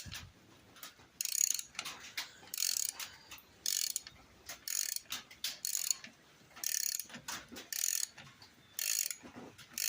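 A ratchet wrench loosens a bolt on a four-wheeler during a diesel engine swap, clicking in rapid repeated bursts of strokes with short gaps between, close and crisp, no talk.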